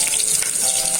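Onions for sambar added to hot oil with cumin and urad dal in a pan, giving a short burst of bright, steady sizzling close up.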